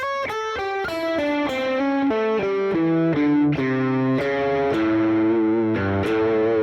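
A distorted electric guitar plays a quick run of single notes up a pentatonic scale in shape 5, one note at a time, loud and up close with no voices.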